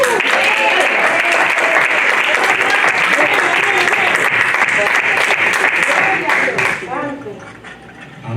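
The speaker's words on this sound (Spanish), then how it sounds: "recibamos con este aplauso a nuestro hermano Roger Reynoso" A church congregation welcomes speaker Roger Reynoso with loud, close, sustained applause, many hands clapping together with some voices mixed in, before the clapping drops away sharply near the end.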